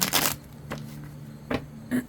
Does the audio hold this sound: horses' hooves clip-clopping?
no